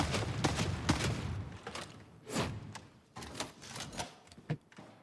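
A bolt pistol in Warhammer 40K: Darktide fires in a quick series of sharp, punchy shots, roughly a dozen evenly spaced reports with brief gaps, moderately loud and alone.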